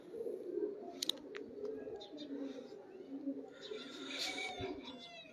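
Pigeons coo in a soft, continuous low murmur close by, with a few brighter chirps and clicks on top, while someone talks quietly over them.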